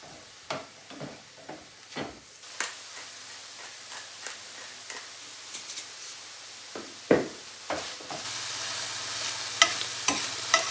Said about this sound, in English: I'm gonna give that a good stir